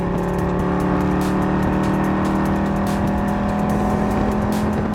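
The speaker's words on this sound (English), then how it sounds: "just 535 horsepower and an exhaust note that sounds like the world is ending" Chevrolet Corvette Grand Sport with a 6.7-liter 535-horsepower naturally aspirated V8, its exhaust note a steady, loud, dense roar held for five seconds without pause.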